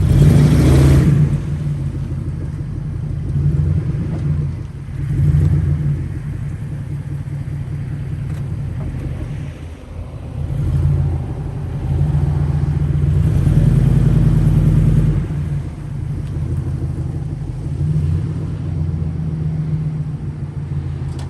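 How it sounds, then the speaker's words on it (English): A $500 Lincoln Town Car with a repaired timing chain revs hard and smokes its tires, a loud, steady low engine roar with surging swells throughout. "will it smoke the tires?"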